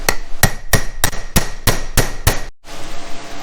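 A small hammer taps a transmission bushing into its housing during a Chevy Nova rebuild: eight sharp, evenly spaced metallic strikes at a quick steady rhythm, close up, followed by a brief pause and a quieter background.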